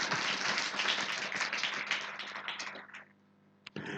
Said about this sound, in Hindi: हम बजा लो ताली अपने लिए।